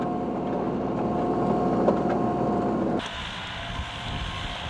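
A TLE3410 compact tractor with a hydrostatic transmission runs in low gear while driving a Wessex rotavator, giving a steady, close engine drone whose tone shifts abruptly partway through. No one speaks.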